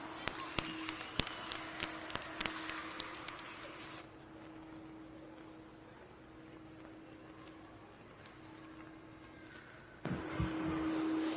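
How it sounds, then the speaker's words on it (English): An audience at a county fair market hog show claps, with a burst of sharp, scattered claps at first and then a steady, washing spread of applause across the arena. "go ahead and give everyone one more round of applause."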